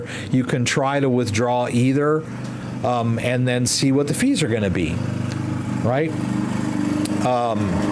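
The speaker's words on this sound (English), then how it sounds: "The owner is out there mowing the lawn, so sorry about the noise if you hear the lawnmower out there." A lawnmower drones steadily outside as a low, continuous engine hum running beneath a man's close, constant talking.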